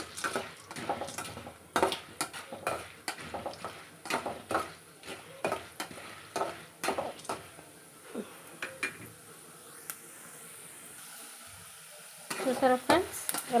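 Urad dal frying in oil while a spoon stirs and scrapes the pan, with clinks against the metal recurring in a steady rhythm over a continuous close sizzle, louder scraping near the end.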